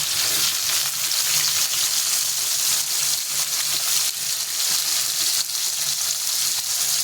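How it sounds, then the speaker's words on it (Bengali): Pieces of potato and radish hit hot oil in a pan, producing a loud, dense, unbroken sizzle that stays close and steady for the whole stretch. "দেবো আলুটা। এরপর দেবো মূলোটা।"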